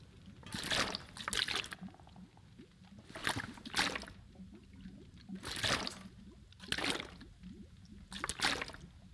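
Water sloshes in The Long Dark video game, several rising and falling liquid swishes spaced a couple of seconds apart over a quiet background.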